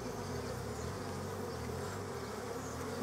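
Honey bees buzz steadily around an open hive as frames are worked during a move to a long bench hive, a dense, continuous close-up hum with no talking.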